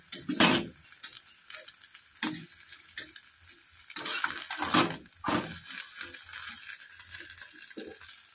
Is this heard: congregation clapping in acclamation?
no